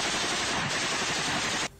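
A machine gun fires a rapid, dense continuous burst at close range, the loud rattle of shots blurring together before stopping abruptly.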